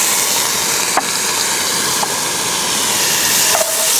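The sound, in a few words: garlic sautéing in a Dutch oven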